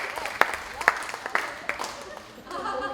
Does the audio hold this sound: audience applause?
yes